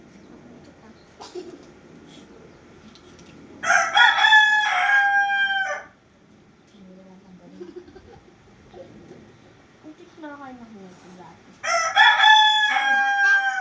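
A rooster crows twice, loud and fairly close, with a long drawn-out call each time; a person speaks briefly between the crows.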